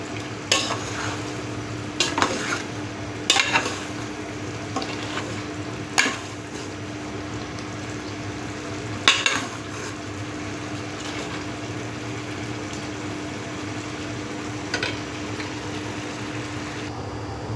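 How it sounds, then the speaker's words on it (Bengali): Fish pieces coated in plenty of turmeric sauté in a pan, giving a continuous close sizzle with a steady hum under it and sharp scraping clicks from stirring now and then, with no talk. "এখন একটু কষিয়ে নেব মাছ, কষিয়ে নিলে নাকি টেস্টটা ভালো হয়"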